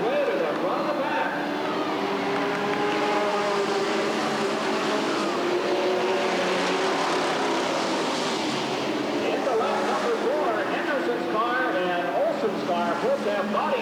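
Street stock cars race around the Redwood Acres Raceway oval in a 1989 main event, their engines droning and rising in pitch as the field passes, while an announcer talks steadily over the roar throughout.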